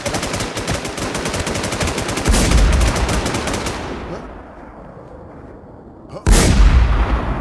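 Video game gunfire in rapid bursts, dense automatic shots at first, fading to a quieter stretch, then a sudden loud blast and renewed firing.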